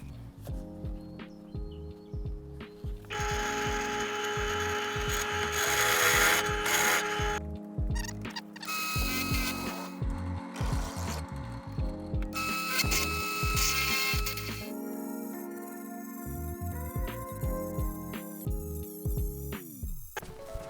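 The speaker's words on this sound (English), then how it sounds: "So let's drill out the next hole." A power drill bores through thick metal light mounting brackets for Baja Designs LP6 pods, whining and grinding in bursts with scraping and clatter between cuts.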